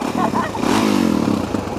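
A 2015 Suzuki DRZ400SM single-cylinder motorcycle engine revs up steadily and close by, its buzzing note rising, with a voice talking over it partway through.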